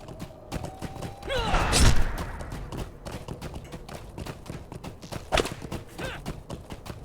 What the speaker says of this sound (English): Let's go ahead and ride out on a horse